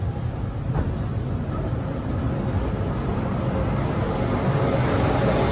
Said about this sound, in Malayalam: 10:20 ട്രെയിൻ ഇതാ സേലം ജംഗ്ഷനിലേക്ക് എത്തുകയാണ്